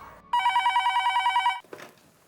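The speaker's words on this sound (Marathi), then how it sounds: "फोन वाजतोय." A telephone rings indoors, loud and close, with a rapid trilling bell pulsing steadily for over a second before cutting off, followed by a short rustle.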